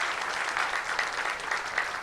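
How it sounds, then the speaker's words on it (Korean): Brief, moderately quiet applause from a forum audience thanking a guest speaker, an even patter of many hands. "우리 차원영 박사님께 다시 한번 박수 한번 부탁드리겠습니다."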